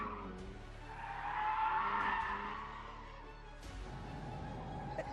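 A car skids around a corner in The Grand Tour racing video game, tires squealing in a drawn-out smear that swells and fades over a steady engine drone, with a second short squeal near the end.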